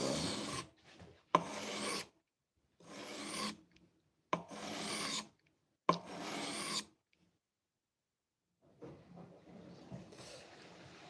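Hand filing to shape a blade bevel: five steady, close rasping strokes with short pauses between them, followed by a softer, scratchier stretch of rubbing.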